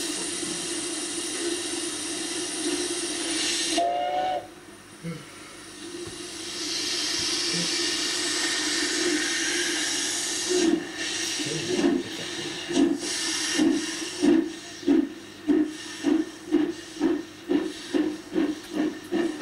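A steam locomotive hisses steadily, then rhythmic chuffs and clanks build into a regular beat as it rolls into Orton Mere station close by.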